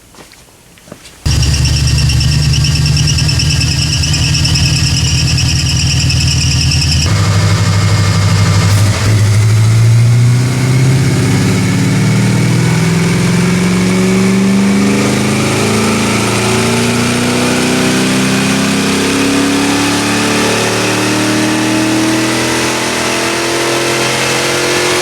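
An AMC 304 V8 in an AMX with a carburetor roars through a DynoJet dyno pull, loud and continuous, climbing steadily in pitch as it revs up after a brief idle, with no talking over it.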